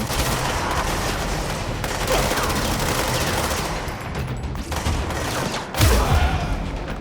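Enemy submachine-gun fire in the Control video game: dense, continuous automatic bursts mixed with impacts and a heavy thump near the end, loud and with no talk.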